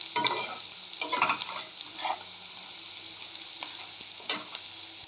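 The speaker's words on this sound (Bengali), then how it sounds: "পেঁয়াজটা মোটামুটি ভাজা হয়ে গিয়েছে" Onions fry in a pan for a rohu fish curry made with coconut milk, giving off a continuous hiss. A spoon clatters against the pan in several short bursts of stirring.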